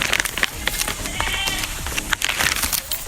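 Several goats bleat in quick overlapping cries at close range at a coconut farm, the calls repeating over a busy background of rustling and splashing water.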